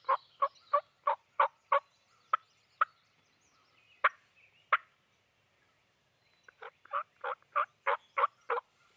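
Wild turkey tom gobbling near decoys outdoors, two bursts of rapid rattling gobbles, the first run of about eight calls and the second of about seven after a short gap, fairly close and loud with no talking.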